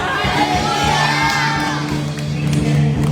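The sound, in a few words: crowd shouting Hallelujah at a church Christmas party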